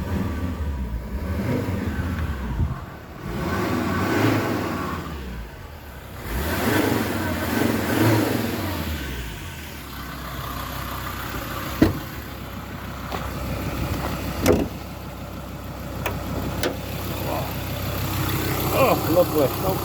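A 2014 Ford Ranger Wildtrak's 3.2 TDCi diesel engine, bonnet open, revs in a couple of rising surges and then settles into a steady idle, heard close with some background noise.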